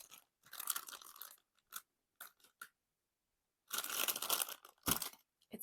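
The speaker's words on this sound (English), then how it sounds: "Crunching alert, but I'll hold up the whole packet." A plastic packet of raffia tape yarn is squeezed and handled up close, giving loud crackling, crinkling bursts separated by short silences.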